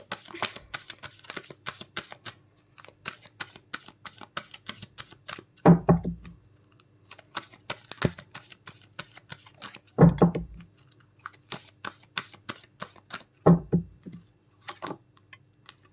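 Angel guidance cards are shuffled close up in rapid papery flicks and riffles. Three louder thumps stand out as the deck is tapped or squared at intervals, and the room is otherwise quiet.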